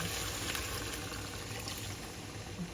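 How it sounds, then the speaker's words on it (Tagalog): Water from a pitcher pours steadily into a cooking pot of lamb caldereta, a continuous close rushing splash that keeps the same level throughout. "Ayan, ilalagay ko itong tubig guys."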